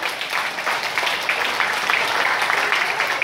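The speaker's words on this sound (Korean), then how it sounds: "큰 박수 부탁드립니다" A large audience at an outdoor city hall cultural event breaks into sustained, dense applause welcoming guest lecturer Daniel Lindemann, steady and close for the whole stretch, with no talking over it.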